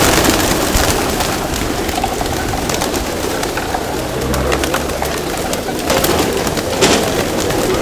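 Pigeons coo and flutter close by in an outdoor feeding spot, a steady busy layer of bird calls and wingbeats over a windy, noisy background with faint voices.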